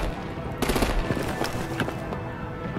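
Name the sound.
gunfire in video game Batman The Enemy Within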